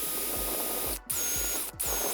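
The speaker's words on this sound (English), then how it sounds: "I'm gonna take this little drill. I'm gonna drill in the center where I just punched." Small drill boring into a punched center mark while fitting a continuous piano hinge, a steady high-pitched whine with brief dropouts as the drill pauses and restarts, close and alone.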